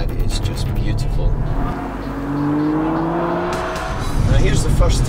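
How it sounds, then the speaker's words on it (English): A race car engine on a track, revving and downshifting with a rising, whining note and some tire noise. A person talks over it throughout. "Now when you hear that downshifting, that is just beautiful."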